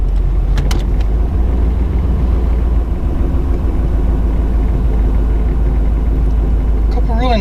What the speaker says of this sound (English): A couple of nice Jeeps pulling in.